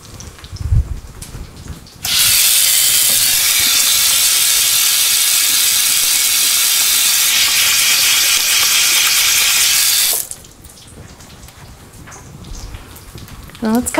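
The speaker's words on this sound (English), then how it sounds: "I'm going to take a quick little hand washing break." Hands are washed under a steady, loud rush of running tap water in a home kitchen, lasting about eight seconds before it shuts off, with quieter kitchen sounds on either side.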